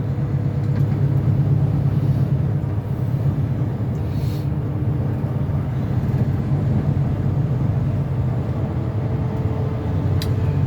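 A heavy truck with an automatic transmission travels over Monteagle mountain in Tennessee, its steady low engine and road drone holding constant and loud throughout with no talking.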